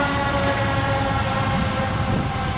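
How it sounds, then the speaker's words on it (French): A fire truck passes through a park without its siren, a steady, loud broadband rumble with sustained engine tones that holds evenly throughout. "c'est un camion de pompiers qui passe de ce côté-là."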